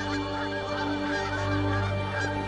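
A flock of wild geese honks loudly and steadily, the calls blending into a continuous, layered chorus with no talking.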